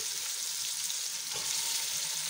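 Chicken for a desi murga curry frying in a hot pan, a loud steady sizzle that fills the whole stretch, with no talk over it.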